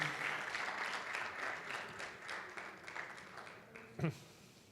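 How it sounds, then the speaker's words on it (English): An audience applauds an award winner at a business panel event on UAE real estate, a faint, fairly distant ripple of clapping mixed with voices, ending with one sharper sound. "a big round of applause, please."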